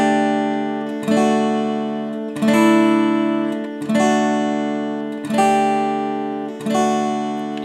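Chords on D alternate between major, sus4 and sus2, with a new chord struck roughly every 1.4 seconds and each ringing and slowly decaying before the next, played clearly with no talking.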